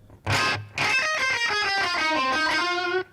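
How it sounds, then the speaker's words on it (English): A Fender Jaguar electric guitar played through a distorted bridge pickup rings out loud and gritty, a short stab followed by a sustained chord and a run of picked, harmonically rich notes. "A lot of distortion in the bridge pickup."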